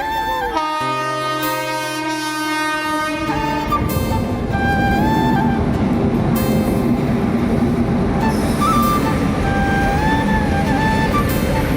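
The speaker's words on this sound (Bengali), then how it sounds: "এই মালগাড়ি করে কয়লা যাচ্ছে" A loud train horn blares at a railway level crossing, then a heavy coal-carrying freight train rumbles and clatters past nearby, its wheels rattling steadily with repeated horn blasts.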